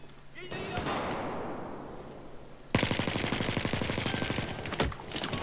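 Rapid automatic fire from an ACE-21 CQB assault rifle in Battlefield 4, a long, loud burst of evenly spaced shots after a whooshing swell, with a voice talking over the game sound.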